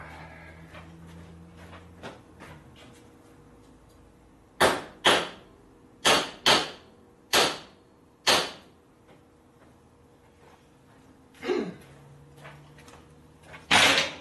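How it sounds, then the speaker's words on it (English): Big hammer striking a thick washer on the stout back of a vise: a series of sharp, loud metallic blows in uneven clusters, about nine hits in all, near and with no talk. "I'm going to flatten this washer a little bit with a hammer."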